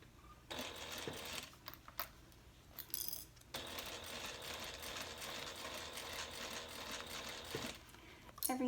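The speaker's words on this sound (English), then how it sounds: "we're going to first sew the bottom. So I'm using the biggest stitch possible on my Juki 8700" A Juki 8700 sewing machine running a long stitch along a handbag's bottom seam, a soft steady whir in two bursts with a brief pause and small clicks between.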